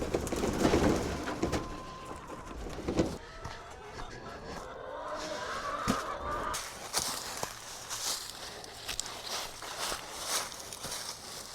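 A flock of about 57 chickens being moved to a new spot, giving scattered clucks and squawks among rustling and handling noises, fairly quiet and without talk.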